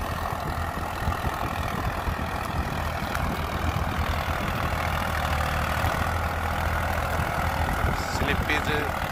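A Euro 47 Supermaxx tractor engine idles with a steady low rumble close by, continuous throughout with faint clanks.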